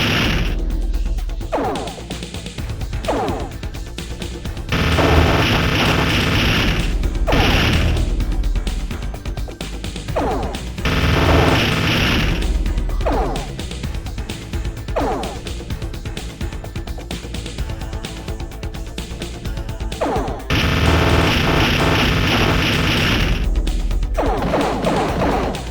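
Spaceship guns firing and explosions in the space combat game The Ur-Quan Masters, with loud repeated bursts of blasts and crashing impacts in irregular clusters over a dense, continuous rumble.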